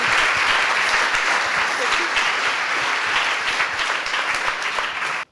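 Sustained audience applause fills an award ceremony hall, dense and steady throughout before cutting off abruptly at the end.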